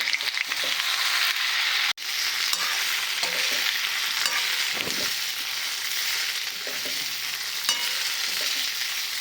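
Muthiya dumplings tossed into a tempering of cumin, mustard seeds and sesame in hot oil make a loud, continuous close sizzle with stirring scrapes, cut by one brief dropout near the start.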